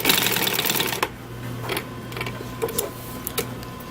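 A sewing machine back stitches along a car seat seam, a steady mechanical whir and rattle that stops and restarts in short, fairly close bursts with a faint hum underneath.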